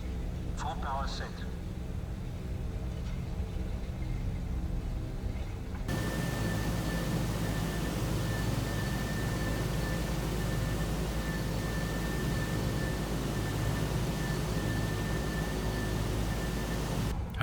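PMDG DC-6 piston airliner engines roaring at full takeoff power in Microsoft Flight Simulator, a loud steady broadband drone with a sustained whine that jumps up suddenly and holds, with a voice talking underneath.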